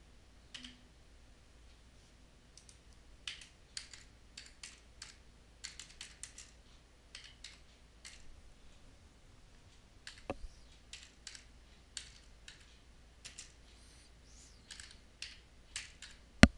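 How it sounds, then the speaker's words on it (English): Quiet, close keystrokes clatter on a computer keyboard in short irregular bursts as a phrase is typed, with pauses between words and a single sharper click near the end. "I'm going to type in "Attention Adventure Travelers.""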